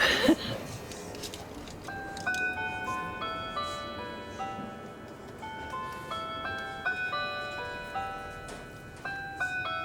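A restored antique clock chimes a melody in a repair workshop, clear ringing tones stepping through a sequence of notes over several seconds, fairly near and moderately loud with a faint room background.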